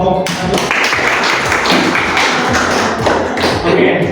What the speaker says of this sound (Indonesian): Tepuk tangan dulu dong untuk kelompok.